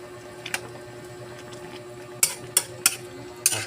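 Coconut milk cooking in a pot with string beans and squash for ginataang sitaw at kalabasa, heard as faint bubbling under a few sharp, irregular clicks of a stirring utensil.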